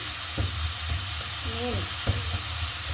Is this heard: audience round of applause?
no